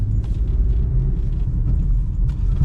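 A Toyota Glanza/Baleno engine hums at a steady low rumble while the car is driven at normal speed, constant and close with no voices.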